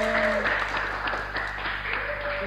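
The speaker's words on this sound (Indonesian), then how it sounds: "Sudah Mas, tepuk tangan dong." Brief burst of applause from a small audience at a casual music talk session, steady clapping over a low constant hum, with a faint tone lingering beneath.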